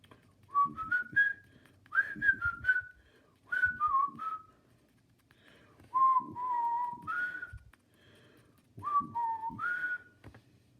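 A person whistles a melody in several phrases with pauses between them, clear and close, with faint background rustling.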